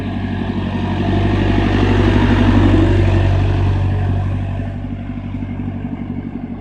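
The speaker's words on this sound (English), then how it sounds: "There are lots of nice cars driving around here." Engine noise from vehicles on a road near Dunster, a steady low rumble that swells in the middle as traffic passes close by and then eases off, with no talking.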